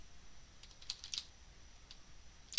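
Faint, sparse keystrokes on a computer keyboard as a file name is entered, a few soft clicks in a short irregular burst, quiet and close with no talk.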